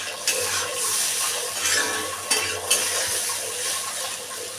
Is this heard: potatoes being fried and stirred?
yes